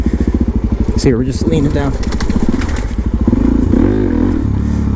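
A supermoto motorcycle rolls down a flight of stairs, its engine idling in a steady, loud, low throb with a brief rise in revs, while someone talks over it throughout.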